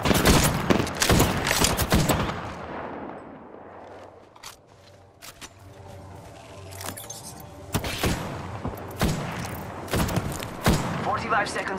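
Rapid bursts of gunfire in the Apex Legends battle royale game, loud sharp volleys at the start and again near the end with a quieter stretch between, mixed with game effects and voice lines.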